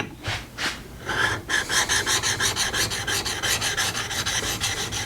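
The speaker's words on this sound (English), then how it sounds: "by just taking the tool and running it on one of the diamond plates here" A steel woodworking chisel back is rubbed on a fine diamond sharpening plate, first a few slow strokes, then a fast, steady rhythmic rasping of regular back-and-forth passes, close and alone.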